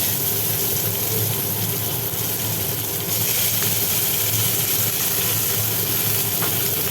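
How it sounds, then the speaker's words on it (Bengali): Onion fries in hot oil with cardamom, cinnamon and cloves, a steady close sizzle and hiss that holds throughout and grows slightly fuller partway through. "পেঁয়াজটা একটুখানি ভাজি ভাজি করা হোক"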